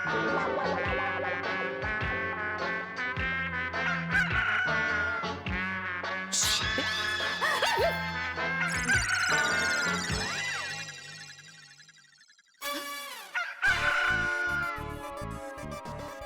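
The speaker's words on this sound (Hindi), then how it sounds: "आवाज अलमारी में से आ रही है। लेकिन मुर्गा अलमारी में कैसे गया?" A rooster crows from inside a closed cupboard in a house during a TV comedy scene, its calls muffled and mixed in with busy background music and effects.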